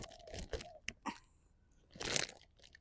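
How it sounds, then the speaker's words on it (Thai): A pet animal crunching and chewing bread up close, with a few crisp bites and a louder burst of crunching near the end. "พี่ขาวชอบกินขนมปังนะ"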